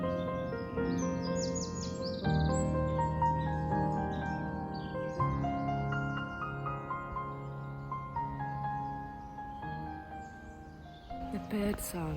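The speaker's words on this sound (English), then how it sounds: "The bird song in this forest is absolutely incredible" Birdsong in an English forest, with several birds whistling and trilling in overlapping clear phrases, close and bright, almost non-stop across the whole stretch.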